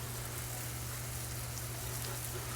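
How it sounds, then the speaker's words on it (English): A constant hiss of spraying water pours steadily onto a Bluetti AC240 power station's hard casing, with a low hum underneath throughout. "It's pretty clean, but let's just keep spraying this thing down."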